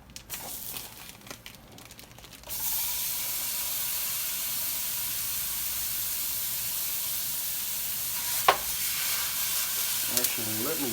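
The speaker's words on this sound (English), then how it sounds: "take a pound of ground beef and get this cooking." A pound of ground beef drops into a hot pan and breaks into a loud, steady sizzle after a few quiet rustling seconds, with an occasional scrape or clink of a utensil as it cooks.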